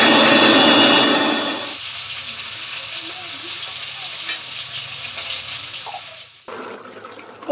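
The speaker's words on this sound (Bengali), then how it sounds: "আলু আর ফুলকপি একেবারে ভাজা ভাজা করে নিই" Potatoes and cauliflower fry in a pan, starting with a loud, hissing sizzle that quickly dies down to a quieter, steady crackle with occasional clinks.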